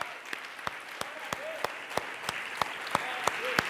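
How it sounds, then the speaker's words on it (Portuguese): Church congregation clapping in steady rhythm during a worship service, distinct regular claps under a low background with faint voices. "Aplauda Ele, glorifica o nome do Senhor"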